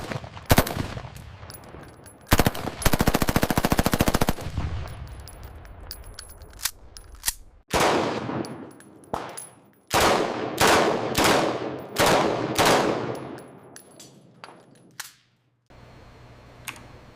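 AK-47 rifles test-fired on a factory range: a burst of rapid automatic fire, then a string of loud, sharp single shots with ringing decay, spaced irregularly and heard up close, with no talk over them.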